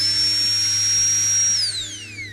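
A Flextail rechargeable camping air pump for inflating air mattresses and pillows runs with a steady high-pitched whine over a low hum, then its pitch slides as it winds down near the end.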